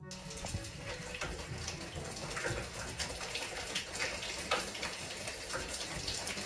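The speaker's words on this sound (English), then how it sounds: "she breaks a CPVC line that goes straight into her water heater" Water gushes steadily from a broken CPVC line feeding a home water heater after a DIY drilling mishap, a constant hissing, splashing spray at moderate distance with no voices.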